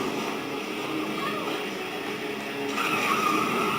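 Car tires skidding in the video game Saints Row The Third, a sustained harsh screech over engine noise that swells louder near the end.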